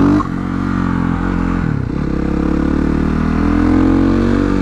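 A supermotard motorcycle engine drones loud and close, with the pitch dipping then climbing again as it is ridden through wheelies.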